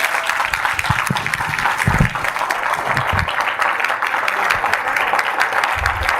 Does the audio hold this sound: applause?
yes